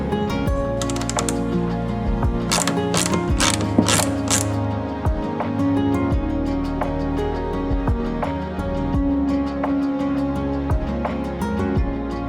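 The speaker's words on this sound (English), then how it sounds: "So I'm gonna start unscrewing this." A ratchet clicks rapidly and continuously as screws are backed out of the airbox on a BMW G310 GS motorcycle, a close, busy mechanical ratcheting with a few sharper bursts early on.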